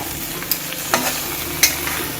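Scraping stirring strokes as crab pieces are turned in a frying pan over a soft sizzle, with a few sharp clacks from a spoon against the pan.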